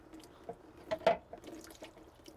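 Transmission fluid dripping slowly from the pan of a 2018-2020 GMC Yukon during a fluid and filter change, a few soft, irregular drips and splashes close by with a cluster of louder drops near the middle, no talking.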